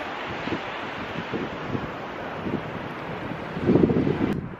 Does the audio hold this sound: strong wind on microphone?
yes